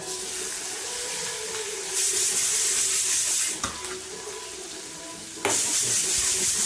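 Mustard seeds, chana dal and urad dal sizzle steadily in hot oil in a home kitchen, a continuous close frying hiss with a couple of sharp pops and crackles.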